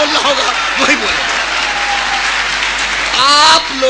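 Audience applause at a Hindi motivational speech for young people: loud, dense clapping from a large crowd, sustained throughout with a faint voice rising near the end.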